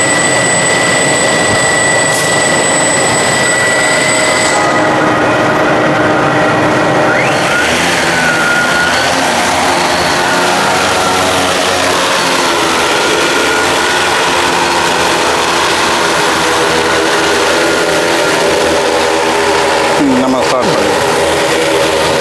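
An agricultural drone flies close by with a loud, continuous buzzing engine drone that holds steady throughout, and a person talks over it.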